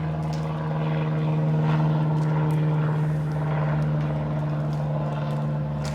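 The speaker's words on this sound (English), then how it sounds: "I'm gonna wait on this plane to pass." A plane flies low past an airport, a steady droning engine hum with a strong low tone holding loud and constant throughout, swelling slightly in the middle, with no talking.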